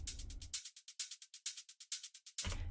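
Tech house drum loop sample adds hi-hat sixteenths, a fast run of crisp, thin ticks in even rhythm between fuller, heavier bursts at the start and end, quiet overall.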